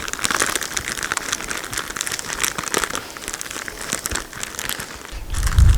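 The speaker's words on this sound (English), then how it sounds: "All you heard was crinkling." A plastic bag crinkles loudly right against the microphone during outdoor biscuit baking over coals, steady crackly rustling for several seconds with no voices.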